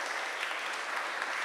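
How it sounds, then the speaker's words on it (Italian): Steady applause from a seated audience at a science talk on Pinocchio, dense even clapping filling the short stretch without a break, fairly close and moderately loud. "grazie a Franco per il suo intervento e un applauso se lo merita"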